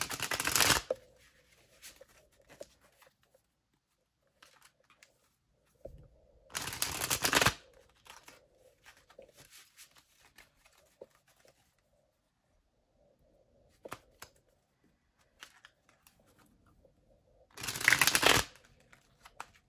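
A stiff deck of tarot cards is riffle-shuffled in three loud, close bursts of rapid fluttering, each lasting about a second, with quiet handling and faint card rustles in between.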